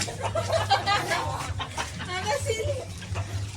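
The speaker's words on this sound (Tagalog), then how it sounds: "Ayan yung mga manok." Chickens cluck and murmur steadily nearby, mixed with outdoor background noise and some indistinct voices.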